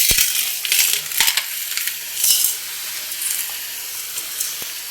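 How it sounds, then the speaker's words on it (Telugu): Sand is poured into a pot set up for baking a cake on a stove top, making gritty, scattered rushes and crunchy trickles in several short bursts. "నేను ఇసుకని గిన్నెలోకి వేస్తాను"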